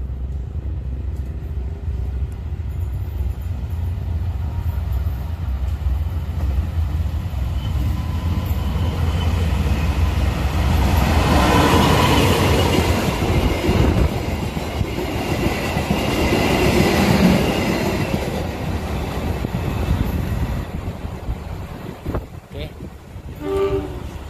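Siantar Express train pulling out of a station in Indonesia: a steady rumble of locomotive and rolling cars swells through the middle, with rail clatter and a brief horn-like tone, close and continuous.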